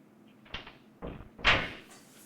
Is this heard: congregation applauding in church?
no